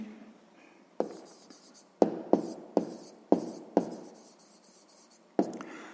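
Handwriting on paper, probably pen strokes for a sixth-grade maths answer, heard as a series of sharp scratchy strokes with short pauses between them, close and fairly loud.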